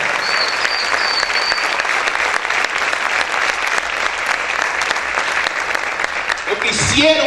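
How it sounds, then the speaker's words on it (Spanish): A church congregation claps loudly and steadily throughout, a dense, continuous wave of applause with no voices breaking through. "Aplaude fuerte a Dios."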